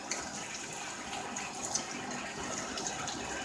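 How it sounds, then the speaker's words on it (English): Running tap water pours steadily into a kitchen sink as hands are rinsed after mixing fry bread dough, a soft, even hiss with faint splashes and no talk. "I'm just going to wash my hands off there."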